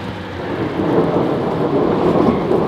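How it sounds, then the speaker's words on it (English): Low rolling thunder rumbles continuously beneath steady rain, a deep sustained roar with no voices. "Hear the thunder."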